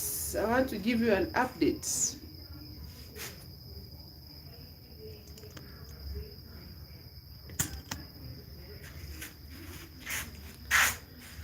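High, steady chirping of crickets and other insects rings through a crop field, faint and continuous, with scattered rustles and bumps and a person talking briefly at the start.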